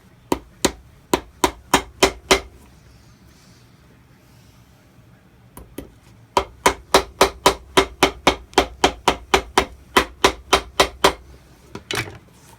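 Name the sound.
hammering nails into a shoe heel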